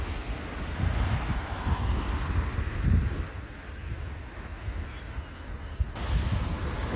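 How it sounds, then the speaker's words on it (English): Transavia Boeing 737-800 airliner taxiing toward the runway at Orly airport, a steady low engine rumble with wind buffeting the microphone throughout, no talk. "taxiing towards the runway."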